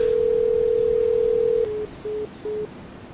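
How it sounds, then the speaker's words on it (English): A phone speed-dialling a number that goes unanswered: a steady tone holds, then three short beeps follow over faint background hiss. "With my left hand, I speed dial Dave."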